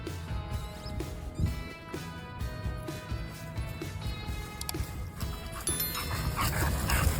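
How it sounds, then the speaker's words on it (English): A dog named Jelly Roll, a tough-looking but gentle pet, gives small muffled barks and yips in its sleep, soft irregular sounds over a steady low rumbling background, close by. "He dreams often, making these little barking sounds in his sleep."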